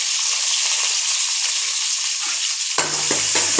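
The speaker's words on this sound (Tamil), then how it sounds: "ரோட்டுக்கடை இட்லி சாம்பாருக்கு எண்ணெய் ஊற்றி கடுகு சேர்த்துக்கலாம். வெங்காயம் போட்டுக்கலாம்." Mustard seeds and onion fry in hot oil for roadside-style idli sambar, a loud dense hiss and crackle up close, which thins suddenly near the end while a low hum comes in underneath, with no talk.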